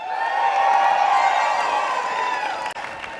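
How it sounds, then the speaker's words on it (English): A rally crowd for a union jobs protest in Canada roars and cheers continuously, with scattered whoops and shouts sustained close and loud throughout, clapping blended into the din. "a huge, huge round of applause for this kick-ass Unifor crew behind me"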